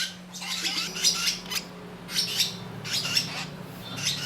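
Lovebirds chirp and squawk while being fed, making repeated sharp, close calls in clusters, with a low steady hum underneath.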